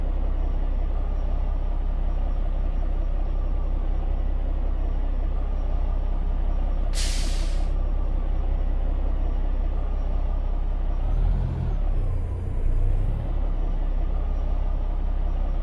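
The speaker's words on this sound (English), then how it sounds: "Might turn that exhaust brake off while I'm in here." Truck engine in American Truck Simulator idling and rumbling steadily, with a sharp hiss of air release midway and a brief shifting, droning whine near the end.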